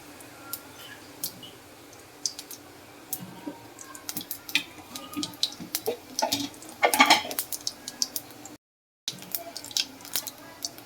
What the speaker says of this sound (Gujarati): ખાલી જીરાથી વઘાર કરશું